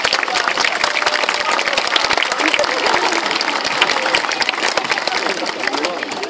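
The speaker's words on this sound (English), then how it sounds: "give you a round of applause" Audience applause at a sea lion show at Flamingo Land, sustained dense clapping from a crowd with some voices mixed in throughout.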